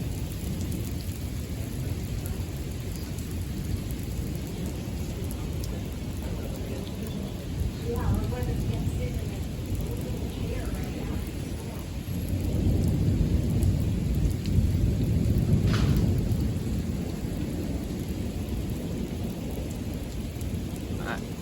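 Thunderstorm in steady, heavy rain, with low rolling thunder swelling louder midway and crackling rumbles throughout; no voices come through over the storm.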